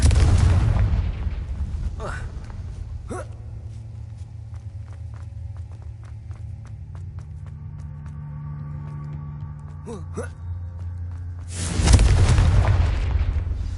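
A Confringo fire spell bursts in the Hogwarts Legacy video game with a deep booming blast at the start and another heavy explosion near the end, a low rumbling drone and scattered clicks in between, with a voice briefly heard.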